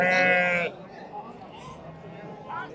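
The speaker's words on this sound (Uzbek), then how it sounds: "Mana bu yerda ham sovliqlar bor ekan." Ewes at a livestock market in Kashkadarya let out a loud, close bleat in the first moment, followed by quieter market murmur and a fainter bleat near the end.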